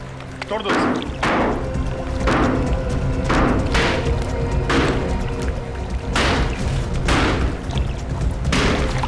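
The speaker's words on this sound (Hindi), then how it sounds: "खोदो, तोड़ दो इसे" Heavy tools strike a water tank in a rhythmic series of about eight loud thuds and crashes, each spaced roughly a second apart, with tense music underneath.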